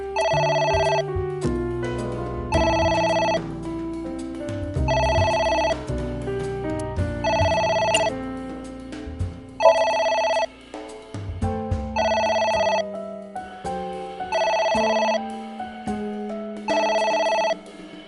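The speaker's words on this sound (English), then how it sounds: "It won't stop ringing." Repeated electronic telephone ringing in the video game Somnium Chloride, loud bursts of bright chiming tones in a steady rhythm, about seven rings over game music with no talking.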